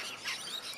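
Small birds chirp in an aviary, a few quick, bright tweets heard up close in a short burst.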